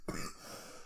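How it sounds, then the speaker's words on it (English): A single brief throat-clearing cough, short and fairly faint, with quiet room tone after it. "I'm having a lot of trouble trying to control my coughing at the moment"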